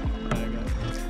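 A canoe is paddled across a lake in Algonquin Park, with close water swishes and splashes from paddle strokes over a steady low rumble.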